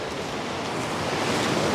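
Steady broadband rush of the Tsahkaljärvi waterfall in Lapland autumn scenery near Kilpisjärvi, a continuous close roar of falling water with no pauses and no voices.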